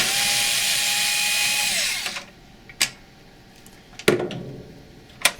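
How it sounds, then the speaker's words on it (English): A power screwdriver whirs steadily for about two seconds, backing a screw out of an HP LaserJet CP3505 printer's tray 2, then winds down, followed by a few light clicks and taps of parts being handled. "Just remove the 2 screws,"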